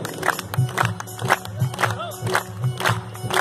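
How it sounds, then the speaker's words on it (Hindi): Audience at a live Shyam bhajan performance claps in a steady rhythm, sharp repeated bursts over crowd murmur and background music. "एक बार तालियां बजाइए मेरे छोटे भाई के लिए।"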